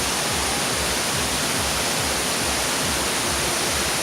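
Pongour waterfall in Da Lat, Vietnam, gives a loud, steady, broadband roar of rushing water with no break and no voices.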